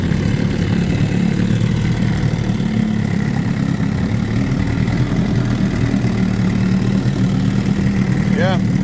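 A 1964 Johnson 9.5 hp outboard motor runs with its cover on, a loud, steady low rumble and mid-range drone at constant speed, close by throughout.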